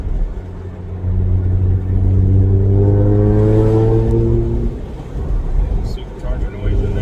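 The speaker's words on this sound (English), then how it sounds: "If you can hear the absolutely beautiful sounds of the AWE exhaust." An Audi B8.5 S4 with an AWE exhaust and supercharger revs up and eases off, its exhaust rumbling and rising in pitch before settling, with someone talking over it.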